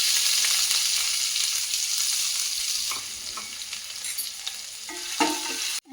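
Cumin seeds, ginger and garlic sizzle steadily in hot oil in a home kitchen, a dense continuous fry with scattered pops and a few utensil clicks near the end, close and alone without talk.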